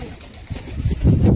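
Kalanka pigeons in a loft coo briefly, with a short, close, low throaty burst rising toward the end.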